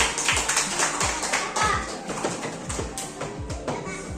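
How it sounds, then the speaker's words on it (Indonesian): Classroom of children clapping for a classmate: a short burst of quick, uneven claps close by, mixed with children's voices and room chatter. "Tepuk tangan dulu untuk Taufik."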